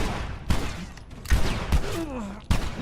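Gunshots in The Last of Us, four sharp reports spaced about a second apart amid a tense, noisy game soundscape with a sliding tonal sound in between, loud and close.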